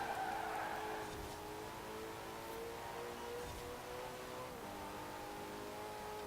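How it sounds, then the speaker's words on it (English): A Ferrari rally car in Forza Horizon 4 drives fast with a steady, sustained engine drone and faint tire noise throughout, fairly quiet in the mix. "So we've got plenty of speed in this Ferrari."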